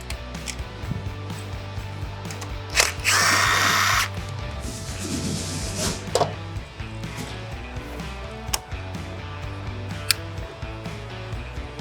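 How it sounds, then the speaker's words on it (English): A power tool on an 8mm socket backs out cover screws on a CSC RX4 motorcycle clutch cover, with one loud, steady whirring burst in the middle and short sharp ratchet-like clicks scattered through a quiet workshop. "we'll take those remaining 3 screws out using that 8mm socket"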